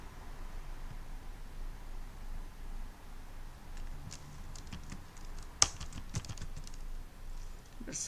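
Quiet, close clicking on a computer keyboard while Python code is typed, short irregular bursts of keystrokes with one sharper clack, alone with no voice.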